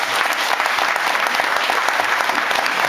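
An audience at a Baeker Boere Broelof carnival wedding event in the Baekerhoes, Brachterbaek, claps in dense, sustained applause that fills the room evenly and loudly throughout.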